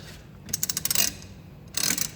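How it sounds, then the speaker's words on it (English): A 3/8 ratchet spanner clicks in two short, quick runs of light, sharp metallic ticks, heard up close against a quiet background. "The biggest I've got is 3/8 ratchet."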